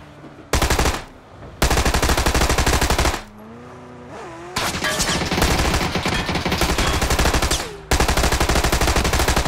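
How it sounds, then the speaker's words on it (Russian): A Thompson submachine gun fires in PUBG in long, loud bursts of rapid automatic shots, broken by short pauses, with no speech. "Вы помните, как Томпсон стреляет?"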